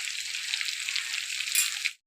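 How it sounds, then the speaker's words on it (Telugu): Chicken pakodi fries in hot oil over a high flame, a steady close sizzle with bubbling crackle that holds loud and even, then cuts off abruptly. "హై ఫ్లేమ్లో పెట్టుకొని ఎర్రగా ఫ్రై చేసుకుంటే చికెన్ పకోడీ బాగా కలర్ఫుల్గా, టేస్టీగా, క్రిస్పీగా ఉంటుంది"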